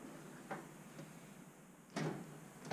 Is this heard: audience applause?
no